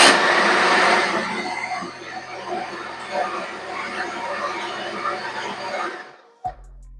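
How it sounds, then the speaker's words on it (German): A food processor fitted with a whisk attachment starts up on its lowest speed, giving a steady close whirring motor drone that runs for several seconds before cutting off abruptly near the end. "Dann nehme ich hier den Schneebesen, setze den einmal auf, Deckel drauf. So, wir starten auf Stufe 1."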